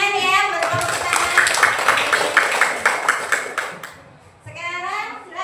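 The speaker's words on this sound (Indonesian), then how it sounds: "tepuk tangan ya buat kelompok pertama." A classroom of children claps for the first group, a brief burst of rapid, near hand claps with children's voices mixed in, fading before speech resumes.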